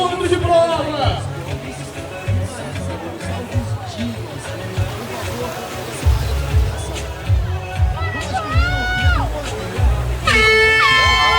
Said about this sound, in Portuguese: Ouvidos atentos ao soar da buzina.